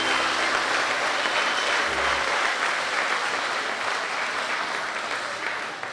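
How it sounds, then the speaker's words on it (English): An audience gives a long, even round of applause for the Queen of the Fair contestants, dense clapping from many hands that holds steady and fades slightly at the end. "Let's give one more round of applause to all of our 2022 Queen of the Fair contestants."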